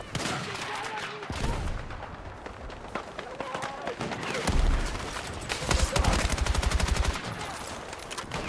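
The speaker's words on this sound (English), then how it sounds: "I didn't realise this game had mortars." Mortar and gunfire in the Battlefield 6 video game crack and boom in dense, overlapping bursts, with heavy low thuds and rapid rattling volleys, while a voice speaks over the din.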